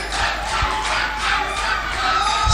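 A crowd cheers loudly for a performer, a dense, sustained roar of shouts and whoops that stays strong and close throughout, with no individual voices standing out.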